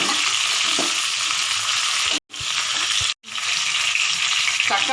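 Curry leaves, tomato, onion and garlic frying in a pan for a drumstick tamarind curry, a loud continuous close sizzle with stirring, broken by two brief silent cuts.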